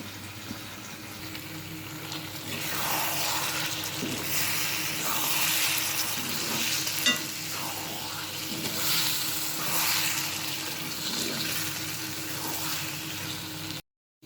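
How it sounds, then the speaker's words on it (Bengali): Garlic fries in oil in a pan alongside boiled beef and goat tripe, a steady moderate sizzle with gentle swelling bursts and occasional stirring clinks, no one speaking. "রসুনটা কিছুটা ভাজা হয়ে গেছে"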